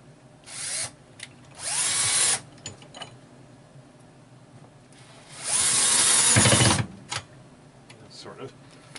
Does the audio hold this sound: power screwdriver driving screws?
yes